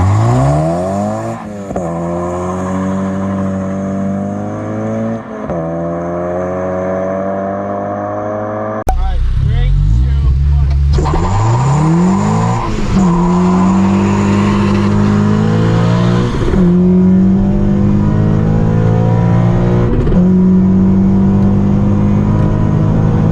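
A 9th gen Honda Civic Si revs hard with its wheels spinning for lack of traction in first gear, loud rising engine sweeps repeating in close bursts, with people talking over the noise.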